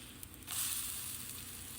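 A pancake of batter sizzling in a frying pan just after being flipped, a steady close hiss that swells in the middle of the clip and holds without speech.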